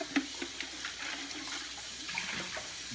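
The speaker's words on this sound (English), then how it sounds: "I will rinse this out." Warm water runs and splashes while a clear container from a Cascade aquarium filter is rinsed out. The rinsing is a steady, quiet wash with occasional small splashes.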